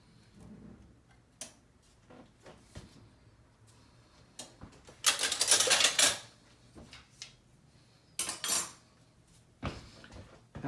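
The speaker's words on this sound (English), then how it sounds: "we'll slide our pan onto the heat to make the sauce" Huachinango a la Veracruzana sauce pan slid onto stovetop heat, heard as faint scattered metallic clinks and scrapes with two louder bursts of clatter midway, alone in a quiet kitchen.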